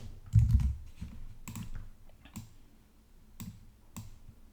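A short run of distinct keystrokes on a keyboard, spelling out a short word. The taps are crisp and close and spaced unevenly, and no one talks.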